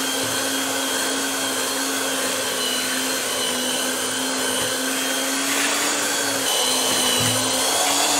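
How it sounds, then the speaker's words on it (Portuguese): A hand-held electric mixer, not a stand mixer, whips homemade meringue for filling and topping, a loud, steady motor whine with a faint rhythmic rattle of beaters against the bowl. "A minha batedeira não é planetária."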